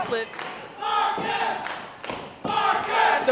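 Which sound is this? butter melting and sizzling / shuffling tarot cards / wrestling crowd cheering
wrestling crowd cheering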